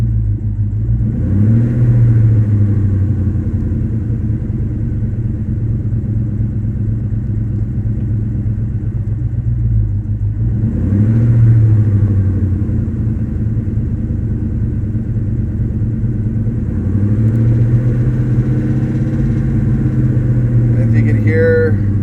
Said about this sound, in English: if you can hear that little kind of rattling tapping sound, I think that's an exhaust leak